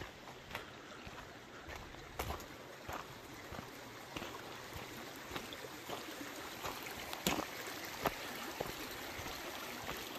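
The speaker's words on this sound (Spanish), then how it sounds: "me pone nervioso el ruido del agua que escucho ahí arriba, como si viniera bajando bastante, bastante fuerte" A stream rushes steadily in the background, a soft continuous wash of water with scattered brief knocks and clicks on top, no voices.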